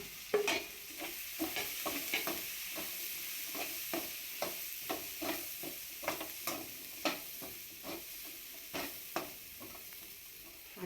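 Biryani masala, coriander powder, chilli powder and garam masala frying in a pan for paneer pulao, with a steady sizzle and repeated sharp scraping strokes of a spoon stirring at an irregular rhythm, close and fairly loud, no talk.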